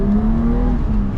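BMW 635csi with an M30 inline-six and a fuel delivery problem, revving to about 3,500 rpm, a loud, close engine drone holding a steady rising tone for just over a second.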